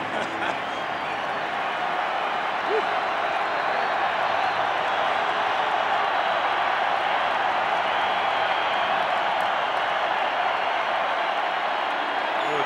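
A very loud, unbroken roar from a packed baseball stadium crowd at the 1987 World Series Game 6, Cardinals at Twins, holding at an even, dense level from start to finish.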